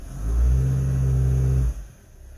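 A deep intake growl from a Fiat engine holds steady and loud for over a second, then cuts off sharply, leaving a quieter idle hum.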